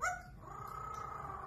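A parrot mimics a dog: a quick yelping bark that stretches into a thin, wavering howl, brief and close.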